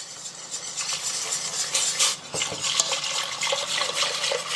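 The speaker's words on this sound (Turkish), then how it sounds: "şurada duran hazırladığımız badem sütünü yavaş yavaş koyalım" Almond milk is poured slowly into a roux for béchamel sauce, giving a steady close liquid wash with soft stirring and light clinks of a utensil against the pan throughout.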